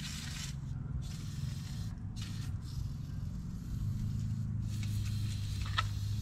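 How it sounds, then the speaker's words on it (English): A spray can hisses in steady bursts onto the underside of a 1953 Plymouth Cranbrook, several short sprays separated by brief pauses, close and fairly quiet over a low background hum. "Just give everything under here a little spray"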